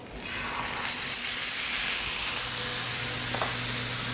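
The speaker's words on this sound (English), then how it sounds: "Of course, the fat cap down to sear it off." Meat seared fat-cap side down in a hot pan gives a steady, loud sizzle that holds evenly throughout, with a faint clink near the end and no voices.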